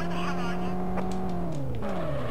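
A car engine in the World's Scariest Police Chases video game drones steadily while cruising on a freeway, its pitch sliding down near the end as it shifts, with a voice talking over it throughout.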